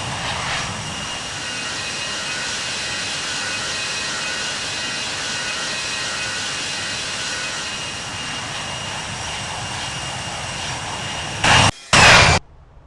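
Airbus A380 jet engines in the Infinite Flight flight simulator game: a steady, loud, broadband engine roar with a high whine running continuously, then two short louder bursts near the end.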